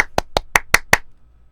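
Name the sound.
hand claps marking an edit point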